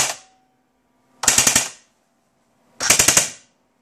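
Two short bursts of rapid automatic fire from an Elite Force Tavor 21 airsoft rifle, each about five snappy shots, loud and close with silence between.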